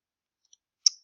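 A single mouse click, sharp and close in near silence, preceded by a faint tiny tick.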